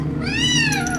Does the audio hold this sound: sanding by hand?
no